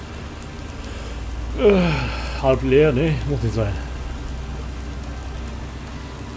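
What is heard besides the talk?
rain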